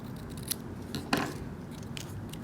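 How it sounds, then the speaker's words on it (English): Scissors snip through paper on a diagonal for a wallet accordion mini album, giving a few quiet, close cuts over a soft background. "So I'm just going to trim in a diagonal like so."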